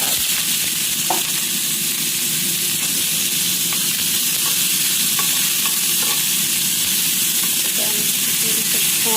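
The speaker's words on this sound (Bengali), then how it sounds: "একটু ঘি দিলাম, জিরে দিলাম, তারপরে পেঁয়াজ।" Cumin seeds and onion sizzling in hot ghee, a loud, steady frying hiss that runs throughout, with faint stirring scrapes and occasional pops on top.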